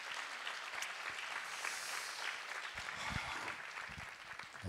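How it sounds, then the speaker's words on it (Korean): Steady, dense applause from a large church congregation, sustained throughout at moderate loudness. "큰 박수 해주시면 감사합니다"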